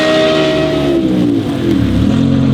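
An Audi R8 with a 5.2-liter V10 and Valvetronic equalized 5-to-1 headers sends a loud exhaust note that sweeps downward as the revs fall, with strong harmonic tones echoing in a tunnel.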